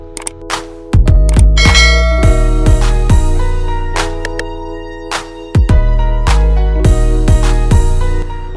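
A series of bright, ringing notification chimes sounds loudly and alone, with sharp struck attacks and long sustained tones, arriving in irregular clusters across the whole stretch.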